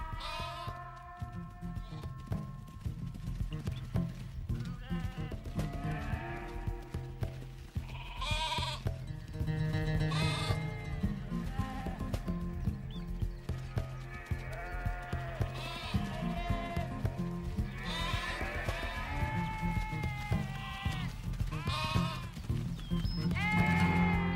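Sheep bleating repeatedly on a farm, several animals calling over one another in a continuous, fairly close chorus of wavering cries with low background noise, and no voices.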